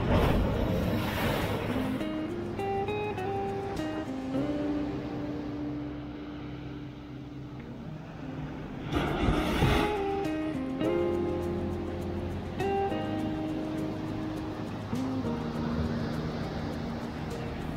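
Sea waves wash steadily at a long jetty reaching out from a beach in Terengganu, a constant surf hiss with a distant engine drone running beneath it.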